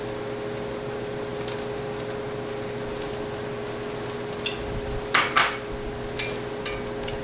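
Minced garlic scooped into a pan of cooking onions, a few light scrapes and taps of a utensil against the pan over a steady hum of kitchen appliances, faint and brief.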